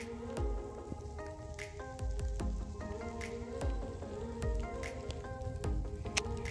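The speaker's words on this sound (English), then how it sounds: "All right, it is starting to rain." Rain beginning to fall on a backpacking trail, with scattered close patters and drops hitting gear and ground steadily throughout, amid soft rustling.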